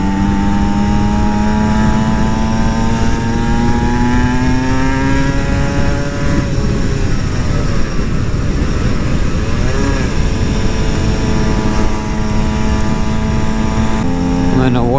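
An Aprilia SX-125 two-stroke supermoto motorcycle engine revs loudly and continuously while riding, its buzzing pitch climbing and dropping with gear changes, with wind rush close to the mic.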